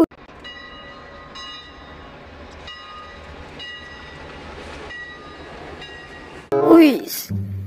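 A toy train chugs and clicks rhythmically with repeating whistle-like tones, then a person's voice exclaims loudly over it near the end.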